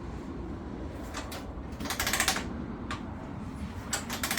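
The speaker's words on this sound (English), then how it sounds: "It does roll over really nice and smoothly." A 1998 Honda 300 4x4 ATV engine, left sitting for years, is slowly cranked over by hand, giving a run of close mechanical ratcheting clicks over a steady low hum, with brief busier bursts and no voices.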